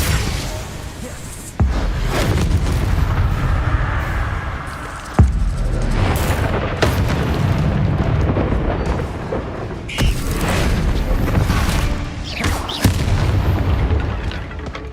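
Repeated deep booming blasts from the Confringo explosion spell in the video game Hogwarts Legacy, several loud impacts with rumbling tails layered over dense in-game combat noise.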